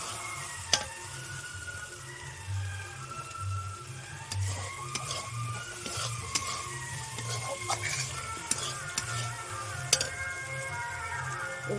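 Masala spices frying in oil for a Bengali fish kalia, a soft continuous sizzle with intermittent scrapes and taps of stirring, close and moderately quiet, no talking.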